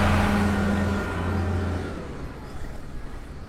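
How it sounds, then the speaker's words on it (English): Six-cylinder Power Star engine of a 7840 tractor running close by, a loud steady low hum that eases off and settles into a rougher, fainter idle over a few seconds. "Six cylinders, Power Star engine,"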